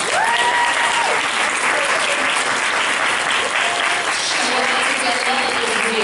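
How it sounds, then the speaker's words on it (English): Audience members clap loudly and steadily at a lash training event, the applause continuous and dense throughout, with a few voices and faint tonal whoops rising above the clapping. "They deserve a round of applause."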